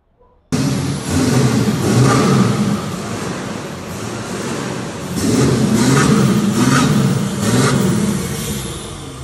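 A Ram 3500 pickup engine fitted with a straight exhaust kit fires up and revs, a loud, close, deep throaty roar that swells in two main surges with brief blips between.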